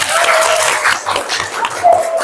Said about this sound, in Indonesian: tepuk tangan bagi terus